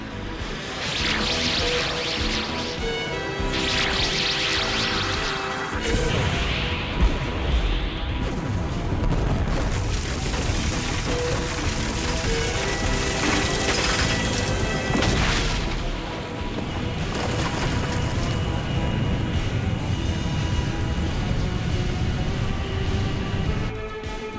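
Anime self-destruct sequence explosions: a dense, loud barrage of booms and crashes layered with rumbling, continuous across the span with shifting bursts and no speech.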